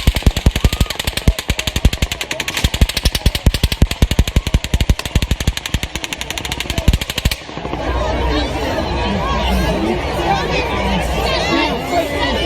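Rapid bursts of gunfire crack in a fast repeating rhythm for several seconds, then stop, leaving a crowd murmuring and chattering.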